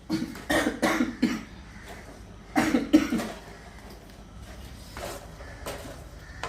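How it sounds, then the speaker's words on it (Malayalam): Several harsh coughs from a lingering cough after a cold, in short bursts, a pair early on and another around the middle, followed by quieter rustling and shuffling. "എനിക്ക് ജലദോഷം മാറിയിട്ട് ചുമയായി."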